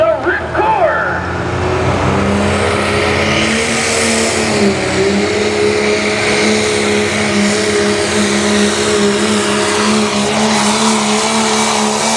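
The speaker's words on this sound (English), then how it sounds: "Limited Pro diesel truck this year from New Philadelphia, Ohio area, a GMC" A GMC Limited Pro diesel pulling truck roars loud and sustained at an Ohio truck pull, its engine note rising steadily and holding under a public-address announcer's voice.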